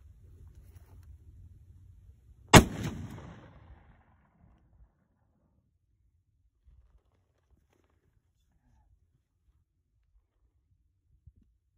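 A single .50 BMG rifle round fired from a rig built on an AR-15 lower gives one sharp, loud outdoor blast with a short decaying rumble, followed by near silence.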